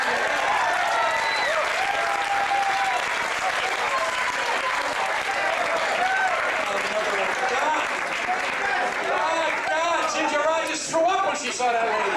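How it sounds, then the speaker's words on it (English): Applause from a live vaudeville show audience, a sustained wash of clapping that holds steady and then thins out toward the end, with a voice cutting in near the close. "How about a nice hand clap?"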